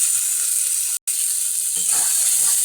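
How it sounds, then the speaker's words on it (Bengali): Cumin and ginger fry in oil for a koi fish curry, making a loud, steady, close sizzling hiss that drops out for a split second before continuing. "ভাজা মশলার কি সুন্দর স্মেল এসছে, মশলা ভাজা হয়ে গেছে।"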